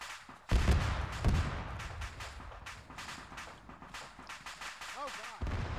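Gunfire and launcher blasts in a multiplayer shooter game ring out in a few heavy booming shots and scattered reports, mid-distance and moderately loud, with a person talking intermittently over the battle.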